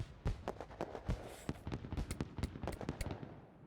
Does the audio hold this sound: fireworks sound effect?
yes